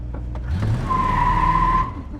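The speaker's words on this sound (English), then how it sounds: "That's the first successful drive this car's made." A Ford Ranchero fitted with a Holley carburetor drives close by, its engine rumbling loudly under a brief high tire squeal or whine that fades near the end.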